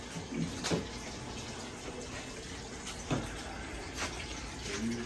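Water runs from a hose to fill a saltwater aquarium tank, a faint, continuous splashing rush with a few soft bumps and knocks scattered through it.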